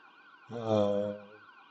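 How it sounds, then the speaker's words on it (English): Short ambulance siren wail, clear and fairly loud, rising and falling once against a faint background, lasting about a second with no speech. "The ambulance siren."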